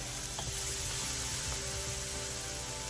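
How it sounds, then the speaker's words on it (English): Shrimp brown in a hot wok with a steady, dense sizzle and crackle, fairly faint, broken by a few soft stirring scrapes, with no one talking. "So I just let the shrimp cook a little bit so they start to brown just a little bit"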